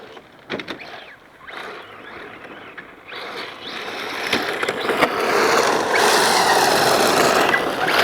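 An MJX 7303 1/7-scale RC car on a 3S battery, driven at max throttle over sand, a motor whine rising from quiet to a loud, sustained high-pitched roar as it speeds away.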